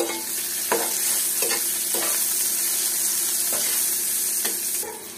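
Cinnamon, onion and two dried chilies frying in a pan, a continuous close sizzle broken by several sharp scraping stirs of a spatula, no talking.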